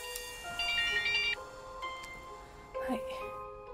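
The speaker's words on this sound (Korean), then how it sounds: "본인이 설정한 벨소리가 아닌 다른 벨소리가 울렸을 때" A synthetic phone ringtone sounding in a horror film, a bright electronic melody playing in short repeated bursts, fairly loud and close, with a second ringing phrase returning near the end over a background of steady tones.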